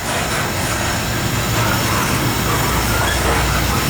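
A loaded CSX coal train led by ES44AH and ET44AH locomotives climbs the Lincolnton hill, a loud continuous rumble of diesel engines and rolling wagons with faint wheel squeal.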